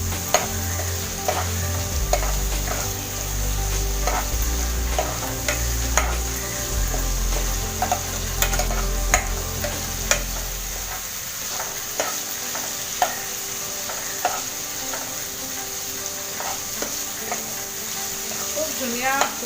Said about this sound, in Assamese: সেইখিনি আমি দি দিম আৰু আমি খুব ভালকৈ ফ্ৰাই কৰিম